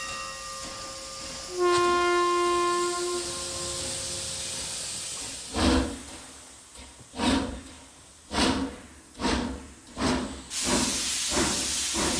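A train running on the rails, a steady hissing rumble with a whistle-like tone early on, then a series of loud rhythmic clunks spaced about a second apart as the carriages pass over rail joints.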